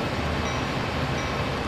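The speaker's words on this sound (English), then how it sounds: "Look at the train!" A train running in the Train Sim World 2 video game, a steady broadband rumble with rolling rail noise held at an even level throughout, with no voices.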